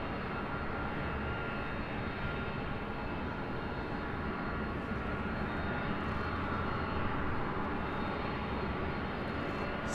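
A Lufthansa Boeing 747 jet roars at Los Angeles International Airport, a loud, steady broadband engine rumble that holds without a break throughout, heard alone.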